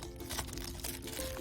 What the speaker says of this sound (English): once you've filled your plastic bag, you can take it out of the cup, and then you squish it